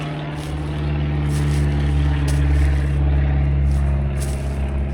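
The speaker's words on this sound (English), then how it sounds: "If you want to know why the plane's going around circles, they're training." Propeller training plane circling overhead, its steady engine drone holding throughout at a constant, moderately loud level with no talk.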